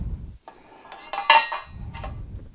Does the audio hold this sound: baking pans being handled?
yes